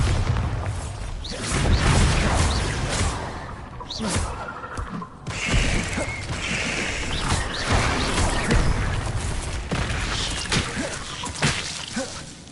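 Spell explosions from a Bombarda curse in the video game Hogwarts Legacy, with repeated booming blasts, whooshes and crashing impacts in a loud, busy combat mix with faint voices.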